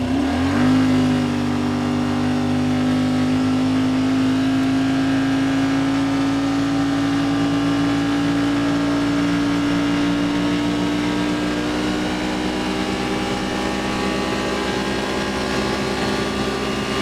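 A 2026 Yamaha Wolverine X2 utility UTV in high range and two-wheel drive accelerates on a top speed run, its engine drone rising then holding a steady loud whine with a constant roar throughout.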